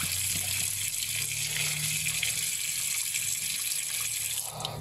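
Water streams steadily into a container to make a brine for butterflied chicken, a continuous close rushing pour that lasts throughout.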